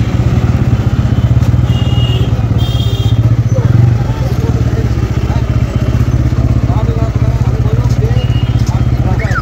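A Bajaj Pulsar N160 motorcycle engine idles steadily and close by while the bike is being parked, a constant low rumble with faint clatter and a person talking over it.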